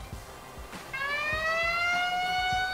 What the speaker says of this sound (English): This is the siren.